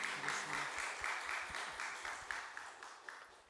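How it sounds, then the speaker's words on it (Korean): Church congregation at a Sunday worship service applauding, the clapping quiet and somewhat distant, with a few sharper individual claps standing out toward the end. "큰 축복의 박수 드리겠습니다."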